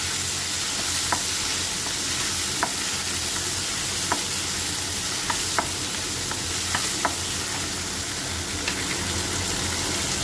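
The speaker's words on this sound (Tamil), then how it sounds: "அப்புறம் தக்காளி போட்டுடலாம்." Tomatoes sautéing in a pan for drumstick chutney give a steady, dense sizzle, broken by scattered light clicks from stirring across the whole stretch, with no voices.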